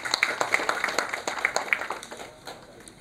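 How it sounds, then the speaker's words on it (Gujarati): An audience at a Gujarat Chamber of Commerce and Industry public health committee event claps in a scattered burst of applause, the claps crisp and uneven, then thinning out toward the end. "તો સૌથી પહેલાં આપના માટે એક જોરદાર તાળીઓ થઈ જાય"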